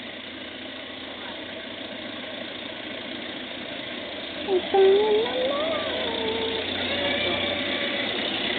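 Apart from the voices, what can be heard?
car engine idling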